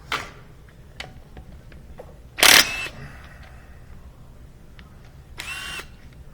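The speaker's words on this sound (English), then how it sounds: "the air impact will just continue to hammer" An air impact wrench removes bolts from the headlight assembly of a Volkswagen B5.5 Passat, with short bursts of rattling hammering; one loud burst mid-clip and a fainter one near the end, separated by quiet clicks and handling noises.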